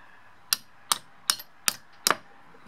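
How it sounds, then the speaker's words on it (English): Wall anchor bolts are hammered into a wall, five sharp, evenly spaced hammer blows, close and loud, with brief silence between strikes and no talking. "See that? Hammer them in."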